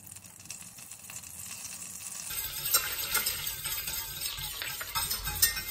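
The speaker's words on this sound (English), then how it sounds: "Add your butter to the pan, which is already hot from spinach. Let your butter melt." Butter melts and begins to sizzle in a pan still hot from spinach, a soft crackle rising after a metallic scrape and settling into a steady fizz with light stirring clinks.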